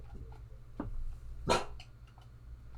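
A dog barks a few times at close range, short sharp woofs with a low growly edge and the loudest bark in the middle, heard alone without talk.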